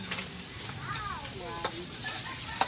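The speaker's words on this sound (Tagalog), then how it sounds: "kasi nag-brown na yung sibuyas bawang" Onion and garlic sauté in a large pan for pakbet, a soft steady sizzle with occasional scraping stirs and brief clinks, heard fairly quietly with no talk.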